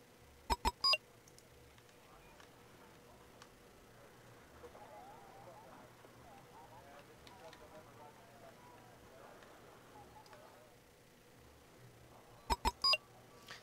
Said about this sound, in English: That constant beeping of them switching their fricking troops.